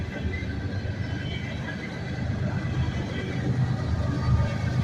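A freight train with an ES44AA distributed power locomotive rolls past, a steady close rumble of wheels and cars that slowly grows louder.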